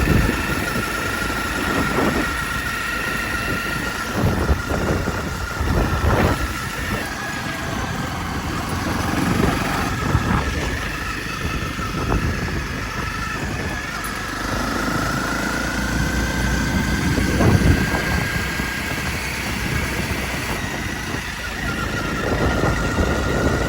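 A motorbike engine runs steadily throughout a ride on a sunny day, with a continuous broadband drone and rushing wind noise, occasional swells and dips in revs, loud and close with no talking.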